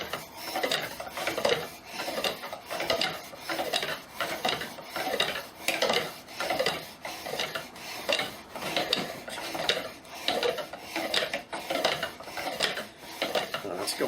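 A pump drill spins a cedar spindle against a pine board, with a saw blade serving as the flywheel. It makes a steady, rhythmic rasping friction that rises and falls in quick repeating strokes throughout, with no talking.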